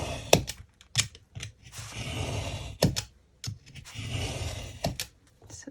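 Scissors snip through a strip of paper for a DIY wall calendar craft, a run of crisp close cuts with short sharp clicks and longer rustling slices, no talking.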